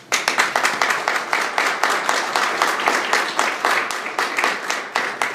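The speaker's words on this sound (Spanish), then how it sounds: "para quien pido un fuerte aplauso" An audience at a book presentation for the Vatican-themed title bursts into applause for the author, with crisp, rhythmic clapping that keeps a steady pulse and stays close and fairly loud throughout.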